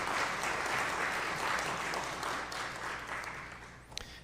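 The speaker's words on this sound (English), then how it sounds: "Now, we're going to really give them a good round of applause." Sustained audience applause at a Martin Luther King Jr. Day celebration on Cape Ann, a dense wash of clapping from a large crowd that holds steady for several seconds and tapers slightly toward the end.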